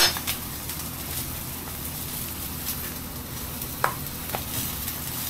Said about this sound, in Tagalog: Tapos, lagyan natin ng butter.